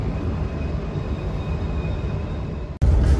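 Purwojaya passenger train leaving Kroya station, a steady loud rumble of rolling wheels and carriage noise throughout, broken near the end by a sudden heavier roar.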